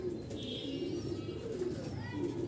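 White fantail pigeons, a large lakkha breed, coo in soft repeated low phrases close by, with faint chirps from other birds in the background.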